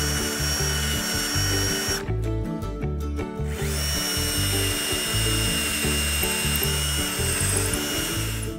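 A power drill with a wood bit bores holes into an oak wine barrel being made into a wall bottle rack. The loud, steady whine is close, drops out briefly and then resumes at a constant pitch.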